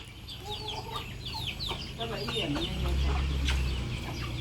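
Several chickens cluck and chatter nearby in short repeated calls, with low background voices and ambient noise underneath.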